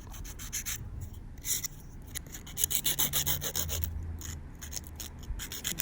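Hand file rasping across an acrylic nail in quick, rhythmic back-and-forth strokes, close and steady for several seconds with no talking.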